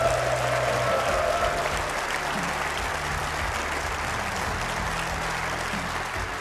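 Sustained, dense applause from a large audience at the Players' Championship snooker quarter-final in the Telford International Centre, steady and loud throughout with no speech over it.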